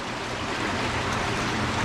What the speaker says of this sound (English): Just gonna rinse out the manure gutters.